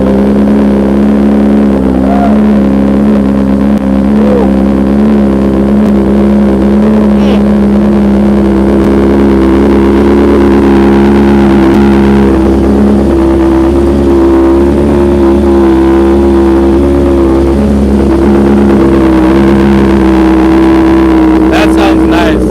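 A motorcycle engine fitted with an aftermarket Aero exhaust runs loud and close, a deep steady throb with rising revs, while people talk over it.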